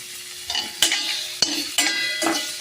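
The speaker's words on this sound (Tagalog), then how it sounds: "nilagay ko na yung bawang. Saka yung um, na-slice ko na na pork." Garlic and sliced pork sauté in a pan, with a steady sizzle and several sharp scraping stirs against the metal, close and fairly loud with no talking.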